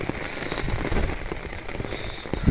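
Heavy monsoon rain beats on a soaked umbrella in a dense, continuous crackling patter with scattered louder drops, close overhead and unbroken.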